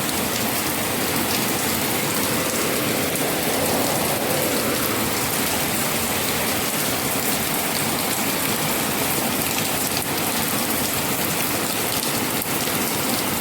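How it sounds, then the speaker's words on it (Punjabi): Heavy, steady rain pours down with wind blowing, a dense, continuous hiss, close and unbroken throughout, with no voices. "ਹਵਾ ਵੀ ਚੱਲ ਰਹੀ ਹੈ ਨਾਲ ਨਾਲ ਮੀਂਹ ਪੈ ਰਿਹਾ ਦੇਖੋ"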